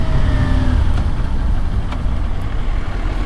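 A car drives along with its exhaust pipe hanging loose, giving a steady, loud low engine drone and road rumble with a few faint clinks and knocks, with no talk.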